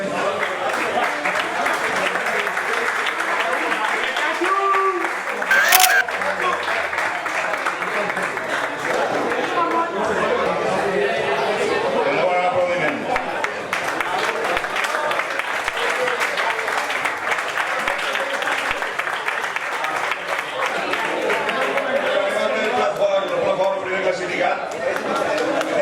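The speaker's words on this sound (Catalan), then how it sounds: "Un aplaudiment." Applause at a veterans' eleven-a-side football league closing dinner, sustained crowd clapping that runs steadily throughout with voices mixed in.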